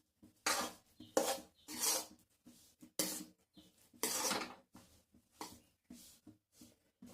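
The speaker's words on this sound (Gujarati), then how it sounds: "તો હવે આપણે આને હલાવી લઈશું." A spoon scrapes around a pan of ghee and flour over the gas for adadiya pak, giving rhythmic, close, gritty strokes with short pauses between them.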